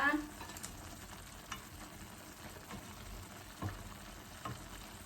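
Mama instant noodles cooking with chicken feet in a pot: a quiet, steady bubbling and simmering hiss with faint stirring clinks.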